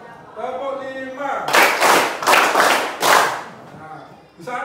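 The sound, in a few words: hand clapping in a counting rhythm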